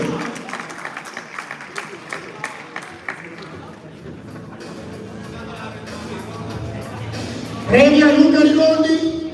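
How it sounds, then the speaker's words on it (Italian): A crowd at a regional schoolboys and juniors boxing tournament claps in scattered, distinct bursts that thin into a murmuring hall. A louder surge of noise and a tonal sound arrive near the end. "Un applauso per il Caio, il box 2010."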